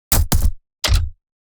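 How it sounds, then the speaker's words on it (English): Three heavy metallic impacts in quick succession, designed rattling metal hit sound effects layered with sub synths, two close together and then a third after a pause, each with a brief rattling tail. "large rattling metal, and mechanical metal hit assets with some subsynths to beef them up"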